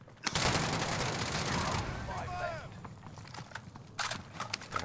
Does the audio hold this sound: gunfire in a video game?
yes